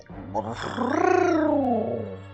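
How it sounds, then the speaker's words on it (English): Wind sound effect in the game Illusion of Gaia: a warbling, rising then falling wail lasting about two seconds that sounds oddly like a yowling cat. It is loud and continuous and heard alone, with no talking. "That noise for wind has always seemed really odd to me."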